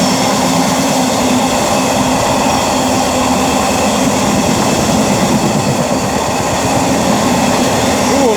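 A Class 66 diesel locomotive hauling a train past the station at Oxford, a loud, steady roar of engine and rolling wagons with continuous rail rumble and clatter filling the whole stretch, no voices.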